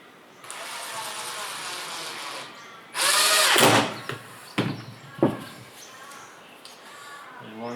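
A router with a pattern-following bit cuts a scarf joint for a wooden boat build: a sustained whine, then a loud burst of cutting, followed by a few short, sharp bursts.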